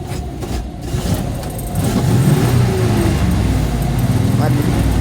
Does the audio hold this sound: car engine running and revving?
yes